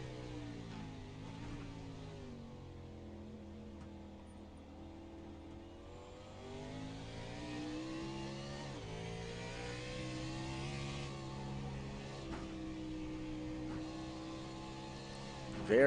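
Onboard engine of the 44 race car on the twisty Sonoma course, revving up and down through gears in a steady loud drone with rising and falling pitch sweeps throughout.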